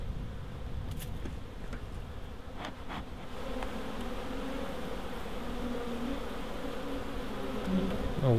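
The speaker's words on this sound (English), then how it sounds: "They've been very busy, this little swarm." A honey bee swarm that has settled in a hive box hums with dense, continuous buzzing close by, holding steady throughout with a few faint clicks early on.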